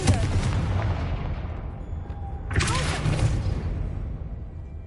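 The Confringo blasting spell in Hogwarts Legacy, heard as two heavy booming explosions about two and a half seconds apart, each with a bright crackling burst that fades into a long rumbling tail, loud and near.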